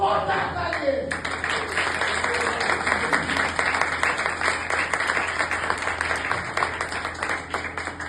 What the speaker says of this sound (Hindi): अपने लिए ही एक बार जोरदार तालियां